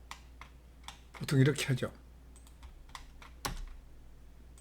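Space bar and other keys pressed on a computer keyboard while working in CAD drafting software, heard as a series of close, crisp clicks around a short stretch of spoken talk.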